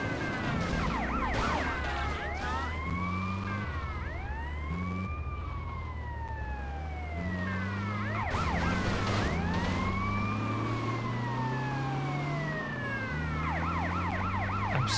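Ambulance siren in the video game GTA Liberty City Stories, a loud continuous wailing that sweeps up and down over engine rumble throughout, with no talk.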